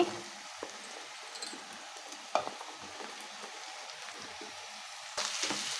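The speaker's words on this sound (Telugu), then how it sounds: "ఇప్పుడు మనం కట్ చేసి పెట్టుకున్నటువంటి బీరకాయ ముక్కలు అయితే వేసుకోవాలండి" Cut ridge gourd pieces dropped into a hot pan give a soft, steady sizzle with light stirring scrapes, quiet and close, swelling louder near the end.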